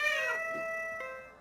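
A space cat in a children's cartoon gives a single clear, drawn-out meow, bright and close, followed by a softer fading trail.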